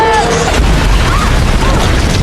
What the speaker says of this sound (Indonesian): menyerang para robot dengan bom bunuh diri